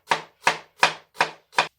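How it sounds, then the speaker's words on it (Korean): A kitchen knife finely chops onion on a cutting board for ssamjang: five crisp, evenly spaced chops, close up, with no voices. "양파도 아주 잘게 다져서 넣겠습니다."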